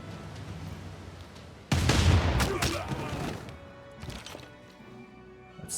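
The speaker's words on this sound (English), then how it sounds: "If I just bombard Cordoba with my various bombardment units." Bombardment units in Civilization VI shell the city of Cordoba with one heavy booming impact followed by rolling crashes and several smaller hits that fade out, heard without speech.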